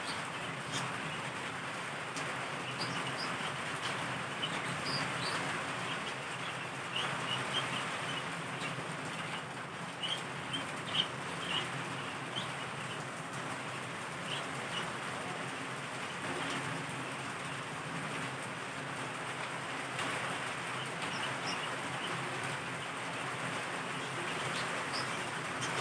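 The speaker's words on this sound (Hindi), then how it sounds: "बहुत मुसलधार बारिश हो रही है।" Heavy monsoon downpour at night in Karachi, a dense, steady broadband hiss that holds continuously at moderate level, with faint scattered drips and distant background sounds and no voices.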